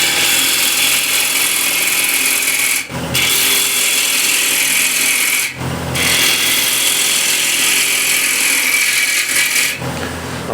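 A ball gouge cuts into a walnut or cherry wood plate spinning on a lathe, producing a loud continuous hissing scrape broken by two brief pauses, close and without talk.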